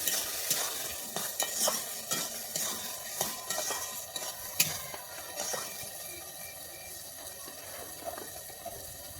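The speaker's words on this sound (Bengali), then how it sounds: "দিয়ে দিচ্ছি নারকেল কুড়ো দিয়ে আমি আবার একটু ভালোভাবে নেড়ে নিচ্ছি" Ash gourd curry with grated coconut being stirred in a pan, repeated clinks and scrapes of a spatula over a soft sizzle, busier at first and easing off later.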